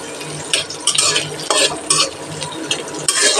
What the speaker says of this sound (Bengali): এবার ধুয়ে রাখা কিশমিশ ভেজে নিচ্ছি।